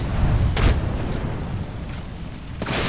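A frag grenade detonates in the Apex Legends video game, a low booming blast followed by rumbling tail, with another sharp burst near the end over a continuous game backdrop.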